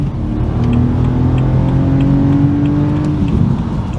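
A BMW 130i's engine and exhaust drone steadily with a low, throaty hum, loud and close, holding a constant pitch without talk.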